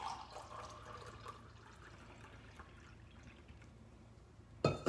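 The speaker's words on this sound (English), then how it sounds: "I'm going to pour it in my little cup." Homemade sun tea is poured from a large pitcher into a small cup, a soft, steady liquid trickle lasting several seconds, fairly faint, ending in a brief louder clunk.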